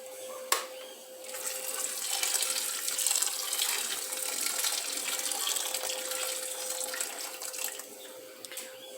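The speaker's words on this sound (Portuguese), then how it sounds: "vou acrescentar um pouco de água quente aqui" Hot water pours steadily into a pot of feijoada with a broad, continuous splashing rush, fairly close and moderately loud, running almost unbroken with no voices.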